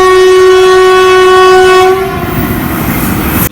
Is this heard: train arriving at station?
yes